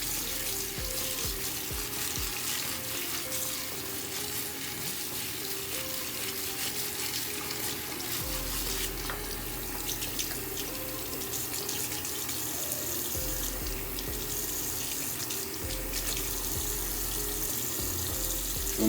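Hair brushes and durags being washed in a sink, with a running tap pouring steadily and water splashing and swishing continuously at close range.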